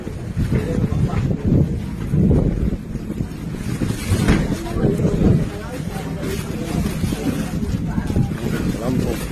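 A boat rides the sea off North Maluku during a ship fire, with steady wind buffeting the microphone and rushing water throughout, while voices shout and talk over it.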